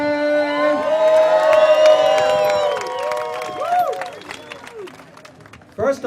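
A crowd at a film-industry rally in Wilmington cheers, whoops and claps for a speaker taking the stage, the noise swelling and then fading, with a few shouts rising above it.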